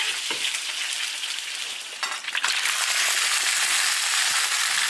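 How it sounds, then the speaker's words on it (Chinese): Ginger, scallion, spices and chili are stir-fried in an iron wok before the meat goes in. A loud, close, continuous sizzle is broken by a brief clatter of stirring, then swells into a fuller, crackling fry. "开始炒调料，姜、葱、香料、辣椒来一点，调料炒香"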